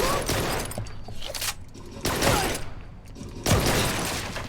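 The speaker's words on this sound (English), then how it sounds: "And just shoot up, and it reloads." Light gun shooting in the video game Blue Estate, played with a Sinden light gun: dense bursts of rapid gunfire come in three loud volleys, with a brief reload sound between them.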